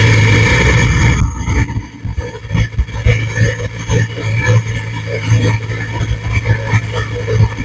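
A car engine idles and runs steadily while being checked for a misfire, a constant low hum with uneven pulses and small surges throughout, close and loud.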